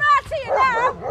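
A police dog at an armed-response call gives a rapid run of excited barks and yelps, close and loud, lasting about a second.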